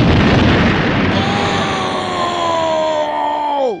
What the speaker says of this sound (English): We got another random explosion again.